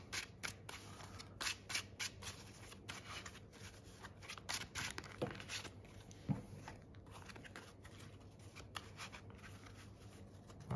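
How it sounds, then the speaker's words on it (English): A deck of trading cards for a Yu-Gi-Oh Ogdoadic Scrap Orcust build being shuffled by hand, with repeated soft riffling and snapping bursts in an uneven rhythm, close and fairly quiet, no talking. "Let's try and do a much better shuffle"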